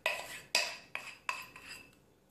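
A spoon scrapes and taps as plaster is spread into prints pressed in sand, giving four or five distinct clinks spaced about half a second apart, each fading quickly, close and moderately loud.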